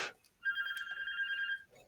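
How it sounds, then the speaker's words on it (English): A mobile phone rings once during an online coding meetup, giving a single sustained electronic ring tone at moderate, somewhat distant volume, briefly preceded by a short noisy burst. "my phone is ringing"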